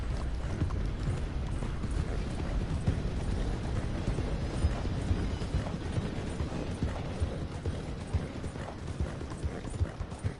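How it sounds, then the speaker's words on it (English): Horse hooves clip-clopping in a PS4 video game, a continuous rhythmic trotting patter with mechanical rumbling underneath, fairly quiet and without talk. "I've got the dirty horse."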